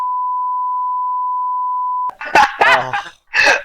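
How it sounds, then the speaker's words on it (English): A single loud, pure censor beep holds steady for about two seconds to cover a name, then cuts off abruptly as voices and a cough-like sound follow close up. "Don't say her name, otherwise I'll have to beep it out"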